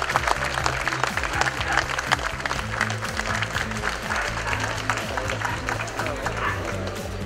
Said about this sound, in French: ça mérite vos applaudissements s'il vous plaît